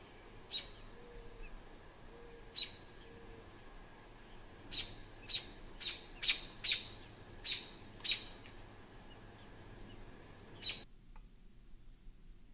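A mother bird near her nest lets out about a dozen sharp, high chirps, some in quick clusters, heard faintly at a distance over a quiet outdoor background.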